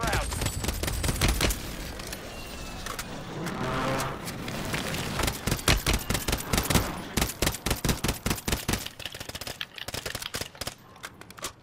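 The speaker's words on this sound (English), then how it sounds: "Someone shooting me from the right." Sustained automatic gunfire in Call of Duty Warzone, loud and close, with dense rapid shots building into distinct evenly spaced bursts toward the end.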